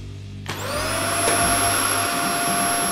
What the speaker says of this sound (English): A vacuum?